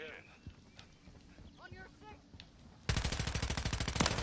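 Rapid automatic gunfire erupts in Call of Duty: Modern Warfare 3, a loud fast burst of repeated shots that starts abruptly after a quieter stretch of game sounds and continues to the end.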